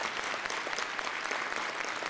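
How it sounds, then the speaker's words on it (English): An opening ceremony audience applauds, a dense, even patter of many hands clapping that stays steady and moderately distant. "And they deserve a big round of applause,"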